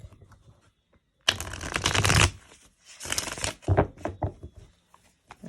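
Tarot cards are shuffled up close in two quick riffling bursts, the first longer and louder, followed by lighter tapping and handling of the deck.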